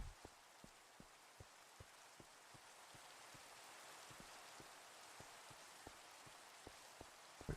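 Rain falls in a video game as a quiet, steady hiss, with soft, evenly spaced droplet ticks and taps repeating throughout.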